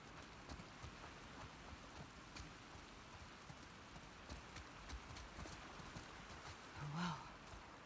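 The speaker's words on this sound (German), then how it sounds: "Irgendwie regnet es immer in The Last of Us." Steady rain in the video game The Last of Us Part II, a dense, continuous patter filling the background for the whole stretch, with a brief brighter tone near the end.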